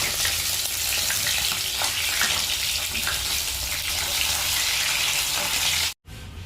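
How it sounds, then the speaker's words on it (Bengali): Bhetki fish fillets frying in hot oil, a loud, steady broadband sizzle close to the pan that runs unbroken for about six seconds, then cuts out abruptly before resuming briefly. "এবার মা এক এক করে মাছগুলোকে ভেজে নেবে।"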